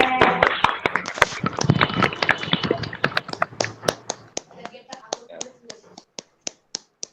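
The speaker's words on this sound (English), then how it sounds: "So can we clap for Abhijit" An audience at a fundraising event claps for a performer. Dense applause gradually thins out into a few scattered single claps, each sharp and distinct.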